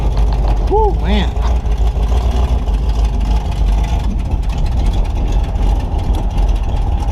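A 1968 Chevrolet Impala V8 idles roughly with its choke hanging, a loud, steady low rumble that runs throughout, with voices over it early on.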